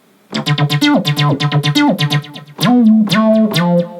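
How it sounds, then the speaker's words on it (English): Heavy, trance-style chord stabs from the Sylenth synthesizer ring out in short rhythmic bursts, bright and distorted, with pitch-bending tails between hits, then two longer sustained chords near the end. "one of my favorite things to use Sylenth for is chord stabs, like really heavy, trancey chord stabs"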